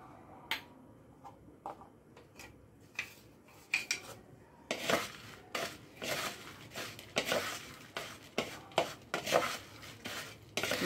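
Roasted cumin, black pepper and dried chilli powder are mixed into crispy jhuri bhaja, making irregular clinks, scrapes and crunchy rustles of a spoon working through a bowl, sparse at first and then busier and louder.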